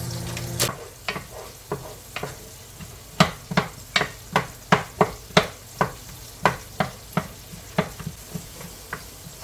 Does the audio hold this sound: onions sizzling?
yes